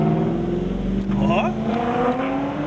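A black 1970s Dodge Charger with a black vinyl roof pulls away, its loud engine roaring and rumbling up close beneath a voice before fading.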